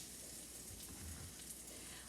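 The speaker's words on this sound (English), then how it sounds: "Okay, so it is frying." Homemade donuts frying in hot oil, a faint, steady crackling sizzle with scattered soft pops, close and quiet, no speech.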